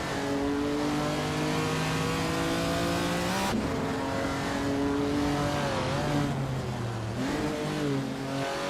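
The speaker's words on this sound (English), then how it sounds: "driving a 1957 Ferrari 250 Testarossa" A 1957 Ferrari 250 Testarossa racing engine in a video game, droning loud and steady as it climbs through the revs, drops with each gear change and climbs again several times.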